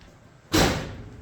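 A vehicle door slams shut once with a sharp, loud thud that rings briefly and decays, following a quiet moment.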